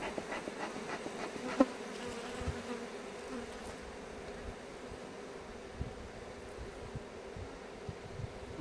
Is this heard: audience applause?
no